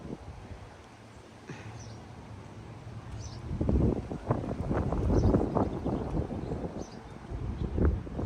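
Strong outdoor wind gusts near a tree, starting as a low hiss and rising into loud, rumbling buffets against the microphone with faint rustling and no speech.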